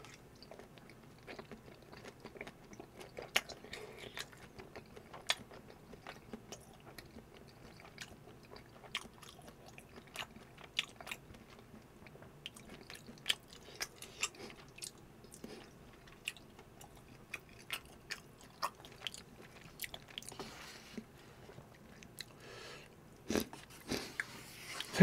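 Chili shrimp cup ramen is chewed up close, with soft wet squishes and small crunchy bites clicking in an irregular rhythm against a quiet background.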